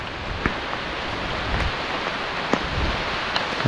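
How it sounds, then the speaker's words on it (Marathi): Light rain patters steadily on leaves in a monsoon jungle, a soft even hiss with a few faint drops standing out. "पाऊस पडलाय थोडाफार"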